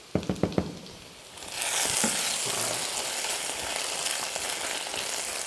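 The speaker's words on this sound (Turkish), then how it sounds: "Sosumuzu karıştırıyoruz." Tomato sauce for Bodrum çökertme kebab sizzles in a pan after a few quick taps of a utensil, then settles into a steady close frying hiss.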